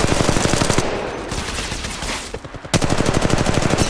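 Automatic weapon fire from the Apex Legends Mobile battle royale game during a ranked match: rapid, loud bursts of shots, a brief lull with scattered single rounds, then another fast rattling burst.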